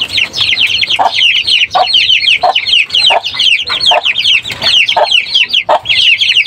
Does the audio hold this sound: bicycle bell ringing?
no